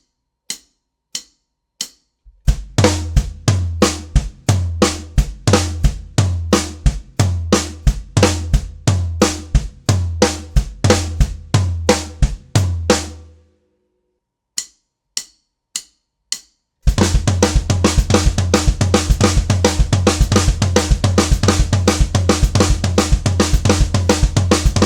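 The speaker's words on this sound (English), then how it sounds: "the C chunk is also 8 strokes long, and it occurs just between the kick, snare, and floor tom, and it begins with the kick" A drum kit plays a sticking pattern across kick, snare and floor tom, with the left hand flamming. Fast, even strokes with deep kick thumps come in bursts, then a sparse pause, then a dense, continuous roll of hits, close and loud.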